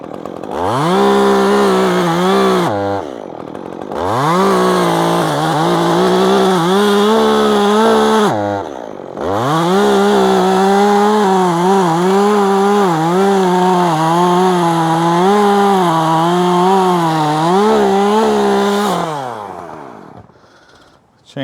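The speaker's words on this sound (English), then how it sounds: "Chainsaw is jumping like that because we filed the rakers down a little too much, but I like it to cut fast." Chainsaw with its rakers filed down too far cuts aggressively through wood in a tree, its loud, close engine roar bogging and surging in long bursts separated by brief idle drops.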